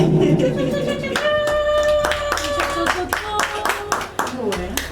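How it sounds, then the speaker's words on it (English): Party guests clap their hands in a celebration, a run of sharp, separate claps forming a loose rhythm while voices and background sound carry on around them. "Clap your hands, everyone."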